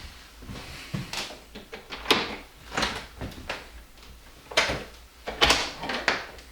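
The door of a mountain fire lookout is worked open, with a series of clunks, rattles and scraping latch sounds spread unevenly over several seconds, fairly close and moderately loud.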